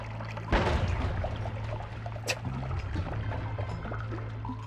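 Blood potion sprayed out in the game Noita, a steady pouring, trickling liquid hiss running through the clip with a sharper burst near the start, over a low constant hum and faint background game sounds.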